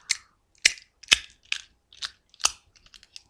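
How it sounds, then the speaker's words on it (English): A loaded 9mm Walther PPS pistol is cleared with a series of about seven sharp, close metallic clacks and snaps at irregular intervals, separated by brief silences, with no talking. "It is not charged, as you can see. However, it is loaded. So we'll go ahead and clear that out for you."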